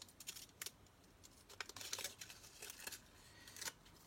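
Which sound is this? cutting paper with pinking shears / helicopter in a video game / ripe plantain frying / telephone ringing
cutting paper with pinking shears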